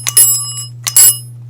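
A Houghton elevator bell rings twice, two bright metallic strikes with a shimmering ring about a second apart, heard alone over a steady low electrical hum.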